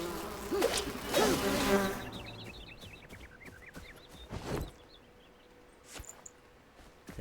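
In the video game Enshrouded, insects drone and buzz inside a hive, a wavering close hum with faint chirping whines, overlaid by a few sharp impacts and swooshes from combat.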